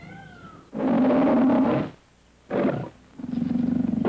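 Lion at a zoo roaring in three loud, deep, rough bursts separated by short pauses, the last ending in a throaty pulsing grunt, close and with no one talking.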